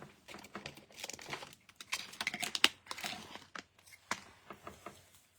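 A paper card base for a handmade greeting card being cut, giving a quick run of crisp snips and papery crinkles, close and irregular, with brief pauses between bursts.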